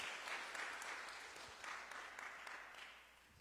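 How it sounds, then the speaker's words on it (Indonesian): Congregation at a Sunday church service applauding people aged 70, a steady wash of clapping at moderate level throughout, with no voices standing out. "Kasih tepuk tangan untuk yang 70 tahun."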